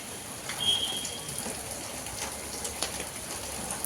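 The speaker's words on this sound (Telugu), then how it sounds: "ఇది చూసారా ఎలా వర్షం పడుతుందో ఇలా అయితే వర్షం పడుతూనే ఉంది" Rain falls steadily outdoors near a garden with rose plants, a soft, even patter with a few sharper drops standing out, fairly faint throughout.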